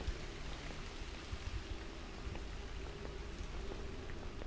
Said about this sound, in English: Man, how long is this rainstorm?